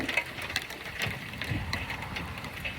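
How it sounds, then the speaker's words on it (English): Steady rain falling outdoors, a soft continuous patter on surfaces with scattered brighter drops, moderate and without talk. "It's raining."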